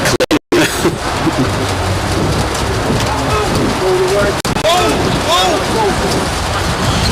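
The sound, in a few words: rain pattering on the media booth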